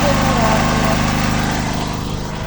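A petrol generator runs close by during a home power cut, giving a steady, loud engine drone with a regular low throb that holds evenly throughout.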